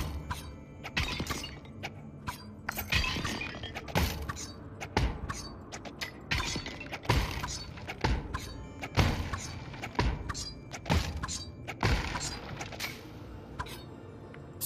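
Objects shatter and clink in the Ancient Dungeon VR game as a shop's stock is smashed, a rapid irregular series of loud crashes, breaks and clatters with no talk.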